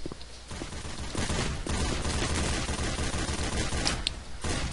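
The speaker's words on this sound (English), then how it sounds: "We have automatic guns." Automatic gunfire in the Left 4 Dead 2 video game, dense sustained bursts of rapid shots with brief pauses, loud and close, over a busy background.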